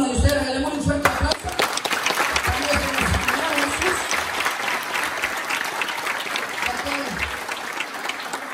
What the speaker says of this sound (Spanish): Regalemos un fuerte aplauso.